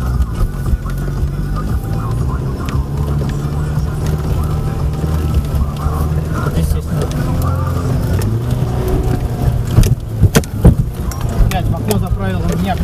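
An off-road car's engine roars hard as it accelerates up a muddy climb, loud and sustained with clattering knocks near the end, while voices talk over it.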